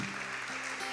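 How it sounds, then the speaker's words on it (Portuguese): A church congregation applauds during a Sunday family celebration service, a dense, steady wash of clapping at moderate level with no voices over it. "aplauda esse Deus"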